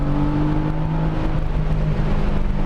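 A 1994 naturally aspirated Nissan 300ZX engine pulls steadily at full throttle, a continuous loud drone with steady harmonic bands and no sudden spikes, heard from inside the car with no talking.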